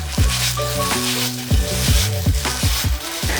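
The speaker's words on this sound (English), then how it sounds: "try this method first, where you just fry it with corn flour and then set it aside" Tofu pieces coated in corn flour fry in a pan, giving a steady close sizzle with repeated clattering stirs and scrapes of a utensil; no one speaks.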